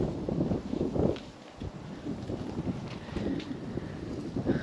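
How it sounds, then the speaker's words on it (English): Hot, gusty wind blows across a covered patio and backyard of a modern Las Vegas house, buffeting the microphone with a steady low rumble that swells and eases in uneven gusts. "Huh, a little windy today."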